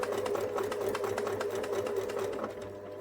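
A sewing machine runs a steady, fast, close-up whir of stitching along a seam in fabric with red thread, holding one even mechanical rhythm for about three seconds before easing off, with no speech.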